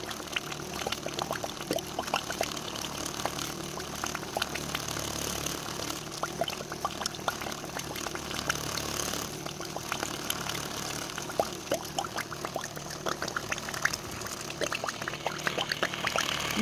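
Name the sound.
water pump glugging water through an IBC tote thermosiphon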